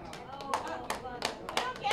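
Scattered hand claps from club staff at a stand-up comedy show at the Irvine Improv: a handful of sharp, uneven claps over about two seconds against a low room murmur.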